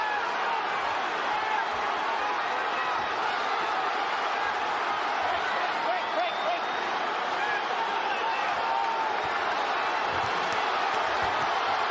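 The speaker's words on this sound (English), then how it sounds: "And the crowd stands and applauds." A large arena crowd at a championship boxing match stands and applauds in a sustained, even roar of clapping and cheering, with commentators talking over it.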